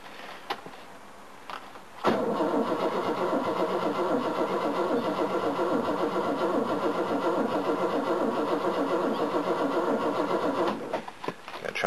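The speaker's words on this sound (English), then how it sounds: "Gotta try and get some fuel up and get the oil pressure up before I let it fire." An old car engine cranks over steadily for about nine seconds without catching, a rhythmic starter churn heard fairly close after a few preliminary clicks.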